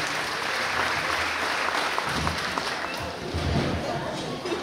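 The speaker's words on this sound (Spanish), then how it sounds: "Fuerte los aplausos, por favor, para los papás del novio" Wedding guests at a reception meal applaud the groom's parents in a thick, continuous burst of clapping that holds steady for several seconds, with some crowd murmur and a voice underneath.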